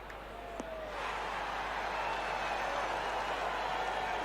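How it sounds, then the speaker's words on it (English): A crowd in the PGA Tour 2K21 golf game, at the 1997 Phoenix Open, rises into a sustained roar of cheering and clapping after a shot on the green, swelling after a second and holding steady. "The crowd go wild."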